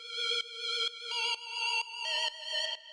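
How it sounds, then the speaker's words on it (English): Synth lead from a square wave through a bandpass filter with LFO vibrato in Ableton Operator, playing a short melodic phrase of sustained, wavering buzzy notes with clean gaps between them. "We've just got a square wave going into a bandpass filter"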